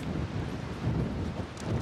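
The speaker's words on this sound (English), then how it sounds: "it is windy" Steady wind buffeting a microphone in Valencia, Spain, a low rumbling roar that stays constant throughout with no voices.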